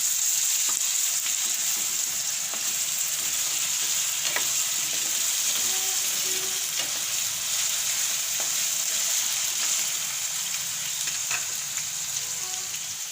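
Methi marcha nu shaak, a fenugreek and chili curry, sizzles steadily in the pan with ginger-chili paste added, a loud continuous fry broken by a few soft stirring clicks, with no talking.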